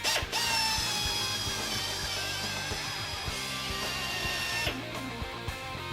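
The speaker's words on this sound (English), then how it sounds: "we're going to use a step unibit to drill out the corners in the B-pillar" A step unibit drills out the corners of a car B-pillar, giving a loud, steady whirring grind with a high metallic ring that holds for several seconds and then shifts pitch near the end.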